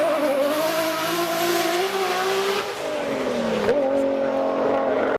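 A Nissan GT-R with an RB26 engine roars steadily, its pitch climbing and dipping as it revs, with a sharp shift partway through and a sudden cutoff at the end; no talk over it.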